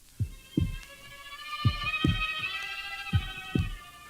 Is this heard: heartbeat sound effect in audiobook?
yes